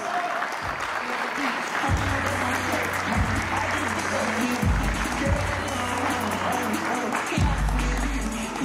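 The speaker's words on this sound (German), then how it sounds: "Applaus." Applause and cheering from a crowd at a combat-sport weigh-in, continuous clapping with low thumps and voices mixed in, fairly loud and steady throughout.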